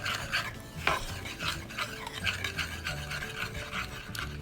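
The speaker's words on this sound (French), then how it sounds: "une cuillère à soupe d'eau de fleur d'oranger. Voilà, vous mélangez" Zlabiya batter of yogurt and orange blossom water stirred in a bowl, a close, steady rhythmic scraping and swishing that repeats for several seconds with no talk.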